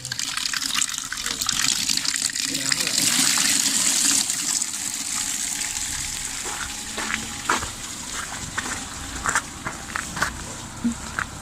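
Water runs steadily from a tap while someone washes up outdoors beside a food truck, a close, continuous rushing wash with occasional knocks and clatter, growing slightly quieter in the second half.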